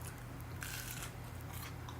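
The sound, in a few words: biting into a crunchy air-fried corn dog bite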